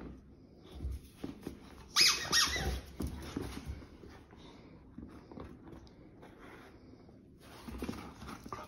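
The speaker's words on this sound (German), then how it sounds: "Da quietscht ja was." A squeaking noise rises in a short, bright burst among soft rustling and shuffling, near and moderately loud, then fades back into low movement sounds.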